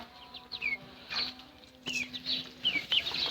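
Young chicks chirp in short, high, scattered peeps at close range, with a faint steady hum in the background.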